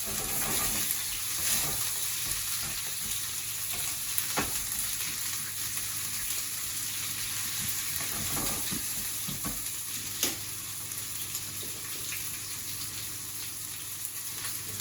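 Garlic butter and oil sizzle steadily in a frying pan, a continuous close crackling hiss with occasional sharper pops and faint stirring, no voices.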